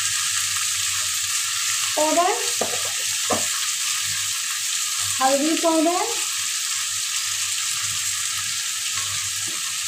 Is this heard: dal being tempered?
yes